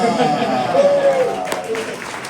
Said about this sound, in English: Round of Yeah. applause.